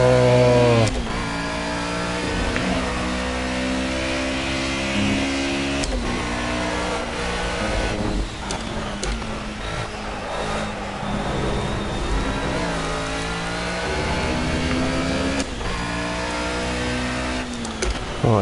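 Race car engine in the Project Cars racing game during a time trial, droning loudly and steadily with rising and falling pitch as the car shifts gears and revs through corners, continuous and close throughout.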